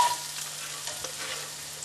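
Finely chopped onions fry in butter and olive oil on medium heat for a lemon and pea risotto, giving a continuous close sizzle with faint crackles and no talking.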